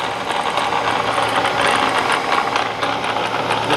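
The spindle of a Bridgeport E-Z Trak CNC vertical mill runs in high gear at about 1200 RPM, giving a steady close mechanical whir with a faint rattle and no speech.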